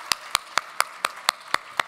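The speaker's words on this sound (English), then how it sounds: "A round of applause for Dr. Thompson." Eight evenly spaced, crisp hand claps ring out at a steady rhythm in a quiet hall at a cancer symposium, each sharp and close with silence between.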